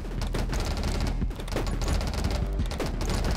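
Shotgun fire rattles without pause in the video game 20 Minutes Till Dawn, a loud, rapid stream of overlapping shots with clattering impacts and no voices.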